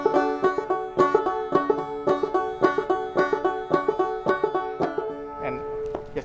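Banjo picked with single melody notes and a brushed thumb rhythm at a folk festival, a steady plucked pattern of bright attacks repeating close and clear, with no talking.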